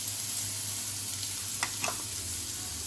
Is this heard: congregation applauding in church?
no